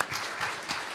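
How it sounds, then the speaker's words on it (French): Brief burst of audience applause at a national science competition final, faint and distant-sounding, a steady patter of many hands lasting under a second. "Ah ben on les applaudit."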